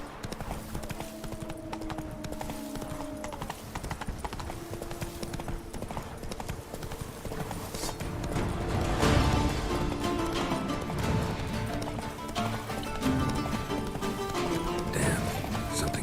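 Horse galloping in an open-world video game, with a steady, close clip-clop of hooves throughout, swelling louder in the second half over faint game ambience and occasional crashing thuds.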